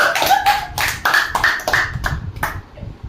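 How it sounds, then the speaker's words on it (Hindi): Children clap together in rhythmic bursts of sharp, close claps, with faint voices mixed in between. "ताली बजाओ सब लोग।"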